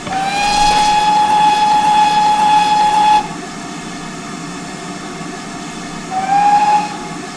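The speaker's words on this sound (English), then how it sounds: "sound the whistle" A loud GWR 7800 class steam locomotive whistle blows a long steady note for about three seconds, then a shorter blast sounds again after a pause.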